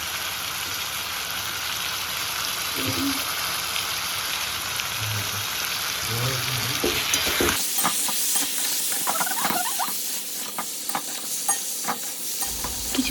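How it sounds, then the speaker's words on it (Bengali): Potato and aubergine pieces with salt, sugar, turmeric and cumin powder sizzle in a pan, first as a steady hiss, then with close scraping stirring strokes and irregular crackles. "তারপর দেবো জিরে গুঁড়ো দিয়ে এখন একটু হালকা করে নাড়বো।"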